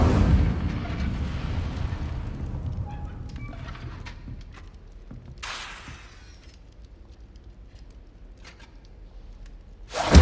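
A fire spell cast in Hogwarts Legacy bursts out as a loud, roaring blast that slowly fades, then a sharp crackling flare erupts midway and a final burst hits at the end.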